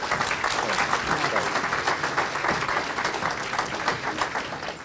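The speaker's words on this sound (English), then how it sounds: "Let's have a round of applause for Mr." A crowd applauds the host of a WW2 veterans' Honor Flight tour in Washington D.C., a lively, close round of clapping with some voices mixed in as it gradually settles.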